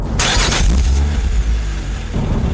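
A Lotus Evora's 3.5 litre V6 engine fires up and revs loudly up close, a short burst of rising roar that settles into a steady throb before picking up again near the end.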